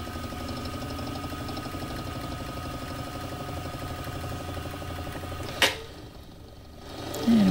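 A vertical milling machine runs with its end mill making a pass, giving a steady mechanical hum and whir. Near the end there is a sharp click, a quieter stretch, and then a rising tone.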